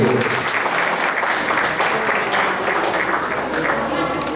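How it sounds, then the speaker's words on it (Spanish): Audience applause at a high school literature and horror night honoring a second-year class group: loud, dense clapping from a crowd close by, steady throughout, with some voices mixed into the noise. "Un fuerte aplauso"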